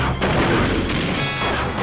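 Cannons firing in the Donkey Kong 64 video game, heavy booming blasts and crashing impacts running almost continuously through the short stretch, loud and dense.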